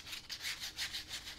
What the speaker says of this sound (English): you can actually take a fine sanding block, a fine grit sanding block, this is a 320 grit.